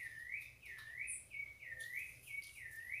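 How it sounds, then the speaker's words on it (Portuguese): A sabiá thrush sings repeatedly in a steady series of rising, whistled phrases, fairly loud and near, over a soft background hum, with light rain falling. "a sabiá tá cantando aqui dia todo"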